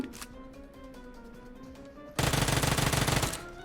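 Automatic gunfire in the mobile battle game PUBG Mobile: quieter in-game ambience with a few faint shots, then a sudden loud, sustained rapid-fire burst lasting over a second.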